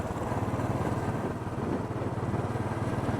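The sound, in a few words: motorcycles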